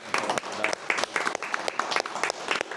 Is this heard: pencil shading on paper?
no